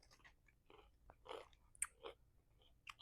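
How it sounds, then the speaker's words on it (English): Someone close up bites and chews a crunchy snack with hummus, giving scattered soft crunches and chewing sounds at a very low level. "If I'm crunching in your ear, I'm sorry."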